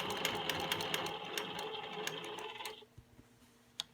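Longarm quilting machine stitching straight quarter-inch lines with a ruler: a steady, fast needle rattle with rhythmic ticks for nearly three seconds, then it stops, leaving a faint tap near the end.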